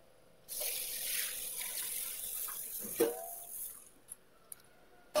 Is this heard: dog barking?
no